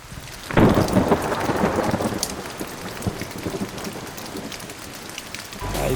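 Steady rain patters on rocks along a forest hiking trail in Sedona's West Fork, with dense drops pattering close by and a low rumble of thunder near the start.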